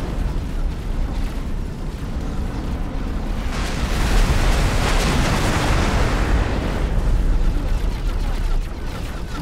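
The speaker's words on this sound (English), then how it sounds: "Explosion imminent." Explosions and gunfire rumble loudly during a space battle in X4: Foundations, a dense continuous roar of blasts and booms with a swelling burst midway.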